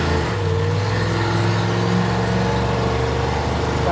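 A car engine fitted with an Edelbrock VRS-4150 650 CFM carburetor drones steadily while cruising at about 55 mph, a continuous close hum with a slight rise in pitch and no voices.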